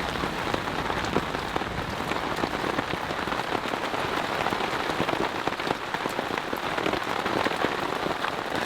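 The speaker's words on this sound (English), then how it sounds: "I am glad that the rain is almost over." Heavy rain pours steadily onto a campsite during a thunderstorm, a dense, even hiss of drops on surfaces close by that keeps up without a break.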